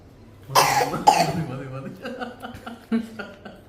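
A couple of loud, harsh coughs near the microphone, followed by quieter throat sounds and faint chuckling.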